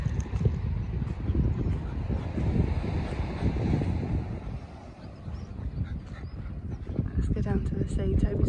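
Wind buffets the microphone on a beach at Great Yarmouth, Norfolk, producing a heavy, continuous low rumble that blurs the voices of people talking over it.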